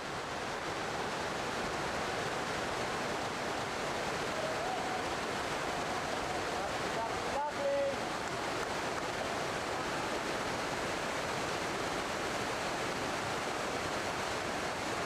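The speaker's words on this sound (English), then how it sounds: "Then Hummel on a 12-metre waterfall." Rushing water pours over a 12-metre waterfall in the upper reaches of the Tora River, a loud, dense, unbroken roar that holds steady throughout with no talk.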